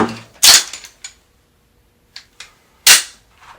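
Pistol shots at an outdoor shooting range: two loud sharp cracks about two and a half seconds apart, with a few softer pops and knocks in between.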